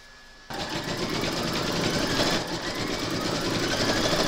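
A sewing machine stitches an embroidered round on a no-sew baby burp cloth, starting abruptly after a brief quiet moment and then running as a steady, loud, fast mechanical whir without pause.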